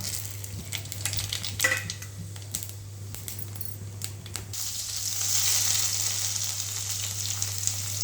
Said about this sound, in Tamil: இந்த ஸ்பைசஸ் மசாலா போட்டுடலாம். ஜீரகம், பட்டை, லவங்கம் இதெல்லாம் சேர்த்துப்போம்.